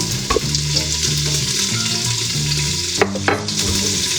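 Steady crackling sizzle of peppers frying in hot oil in a pot for lentil soup, continuous and close, with a low hum underneath and a few soft clinks.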